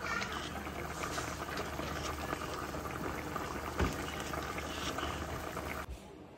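A pot of onion-free mutton curry bubbles and simmers on a stove, a continuous close hiss of boiling liquid with small pops, cut off abruptly at the end.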